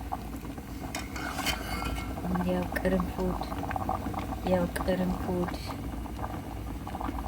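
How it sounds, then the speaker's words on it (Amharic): A pot of water boils with cloves, fenugreek and rosemary, giving a steady bubbling rumble with small pops throughout, close by, while someone talks over it. "በደንብ አድርጋችሁ ታፈሉትና ይኸውላችሁ ችክ ይላል። ይፈላል።"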